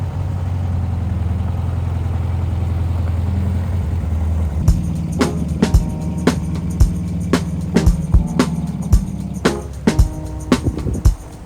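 An abandoned 1980s gullwing-door supercar with no working brakes, driven slowly in heavy rain; a steady low engine drone runs under the first half, then sharp clicks and knocks ring out repeatedly over the continuing hum.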